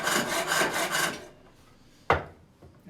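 A sharp hand tool cuts wood on a pole lathe, making a rhythmic rasping scrape in quick strokes for about a second, then a quiet pause and a single sharp knock.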